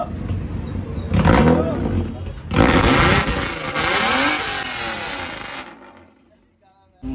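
A Mercedes-Benz W124 fitted with a straight pipe exhaust revs loudly in bursts, its raw engine note swelling and falling over several seconds with people talking close by, then dropping away near the end.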